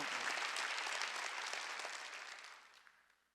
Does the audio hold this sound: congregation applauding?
yes